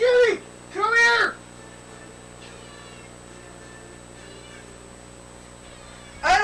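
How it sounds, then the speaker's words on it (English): A cat meows twice in quick succession, loud and close, then falls silent over a low steady hum before a third meow at the end. "Kitty, kitty, come here."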